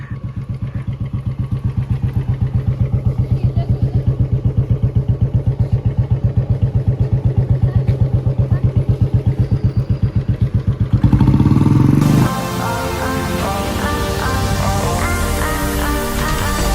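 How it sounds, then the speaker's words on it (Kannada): A motorcycle runs with a steady, rapid engine pulse for about eleven seconds, close and fairly loud, before the sound shifts to a louder clattering burst and then a busier mix of tones. "ಸುಮ್ಮನೆ ಬೈಕ್ ಹೊಡಿತಾಳ."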